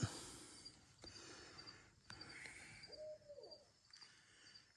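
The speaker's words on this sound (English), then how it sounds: "You can hear that owl." A soft owl hoot sounds once in a quiet night setting, with a few faint clicks and distant background noise around it.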